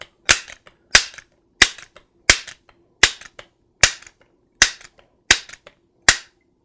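Crosman 1377 air pistol fired repeatedly, ten sharp, loud, close cracks spaced evenly about two-thirds of a second apart, each decaying quickly with no talk in between.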